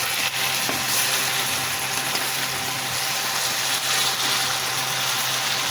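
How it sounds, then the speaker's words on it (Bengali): Two fish heads fry in hot oil, giving a loud, close, unbroken sizzle and crackle that holds steady throughout with no voices. "এখানে মাছের মাথা দুটো ভাজতে দিয়েছে।"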